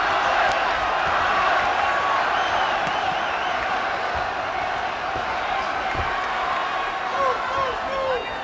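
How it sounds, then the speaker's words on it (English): Boxing arena crowd at the Julio Cesar Chavez vs Ivan Robinson bout roars and cheers as a left hook lands, a dense sustained wall of voices with scattered claps and shouts, loud and continuous throughout. "And the crowd comes alive."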